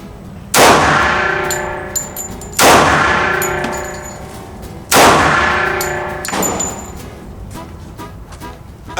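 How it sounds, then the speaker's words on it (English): Three loud, evenly spaced gunshots from a compensated 1911 pistol fired one-handed, each a sharp crack trailing off into ringing echo, with faint metallic clinks between shots. "So I'm going to try the compensated 1911, 3 rounds, right hand, which is my dominant hand"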